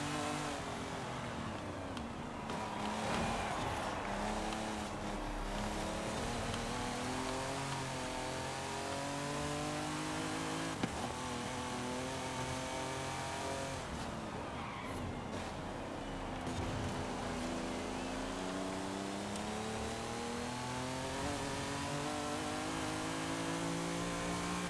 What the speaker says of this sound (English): You can hear the other cars like shift, downshift.